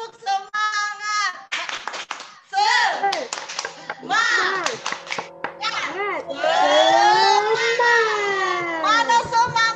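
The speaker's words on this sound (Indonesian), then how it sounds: "kita mulai tepuk semangat dulu ya" A church youth group claps together in the rhythmic "tepuk semangat" cheer, with sharp bursts of hand claps punctuating lively chanting by young voices that carries on over and between the claps.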